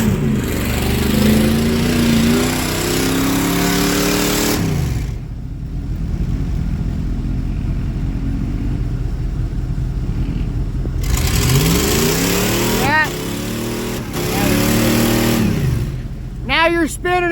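A mud truck fitted with a snorkel revs hard while its rear tire, bead blown off, spins on the rim; loud engine roars rise and fall in surges with a quieter idle between, and voices talk over it.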